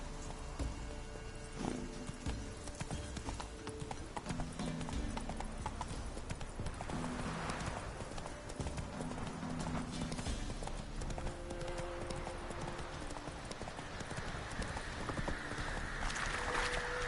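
A horse trots with steady, rhythmic clip-clop hooves through the whole stretch in the game The Witcher 3, the hoofbeats moderately close and continuous over a faint ambient bed.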